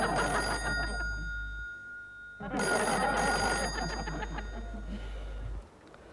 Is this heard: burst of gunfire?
no